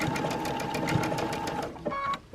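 A Brother Dreamweaver sewing machine appliqueing fabric, a fast rapid-fire rattle of stitching close by that stops abruptly near the end, followed by a faint short beep.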